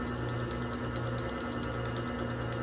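Stand mixer running at low speed while mixing flour batter for baked sweets, a constant close motor drone with a fast rhythmic chatter, continuous and without talk.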